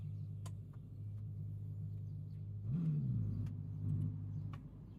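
A Ferrari engine in the Gran Turismo racing game hums steadily at low pitch, then swells briefly in a rev around the middle before settling back into a continuous drone, no talk over it.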